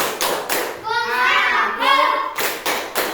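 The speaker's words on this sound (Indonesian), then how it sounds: "Oke, tepuk, kita tepuk konsentrasi." Children in a primary Islamic religious education class do a rhythmic concentration clap: sharp, close hand claps in a set pattern, with the children chanting together in between.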